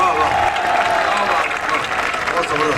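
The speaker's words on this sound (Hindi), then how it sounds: "इनके लिए बेनताज तालियां" Loud, continuous audience applause at a qawwali evening in Karachi, a full crowd clapping steadily with a faint murmur of voices mixed in.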